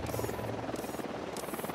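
A helicopter in the tactical shooter Ghost Recon Wildlands throbs with a steady, pulsing rotor chop and buzzing engine hum, moderately loud and alone for a couple of seconds.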